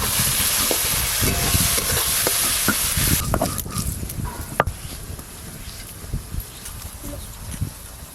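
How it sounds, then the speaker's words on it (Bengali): Prawns frying in hot oil for a Bengali cauliflower-and-prawn dish: a loud, dense sizzle for the first few seconds settles into a lighter crackle with occasional stirring clinks, close by. "চিংড়ি মাছগুলো ভালো করে ভেজে নেব"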